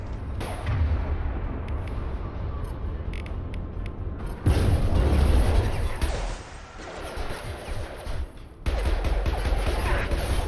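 Weapons fire and mechanical clatter from the Mass Effect 2 video game, with dense bursts of shots and impacts that surge loudly, drop off, then return in a steady battle din.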